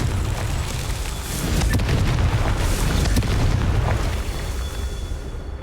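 A Confringo fire spell blasts in Hogwarts Legacy, a dense, booming explosion with crackling bursts that rumbles on loudly for several seconds without letting up.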